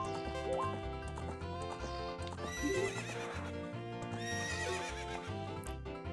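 A horse in The Legend of Zelda: Ocarina of Time gives a clear, loud whinny at a corral, with clip-clopping hoof steps and a steady game music bed throughout.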